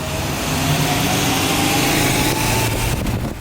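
A Honda CB750 Four motorcycle engine runs on a ride, a loud, close, steady drone with a slight rise in pitch and a faint flutter toward the end.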